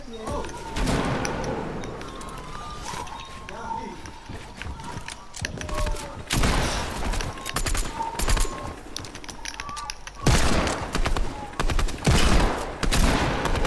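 Rapid bursts of gunfire in a Fortnite match, dense volleys starting and stopping across the clip, loud and close, with keyboard clatter and a player's excited voice in between.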